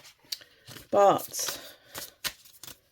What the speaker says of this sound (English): There's no issue with like shuffling them like this.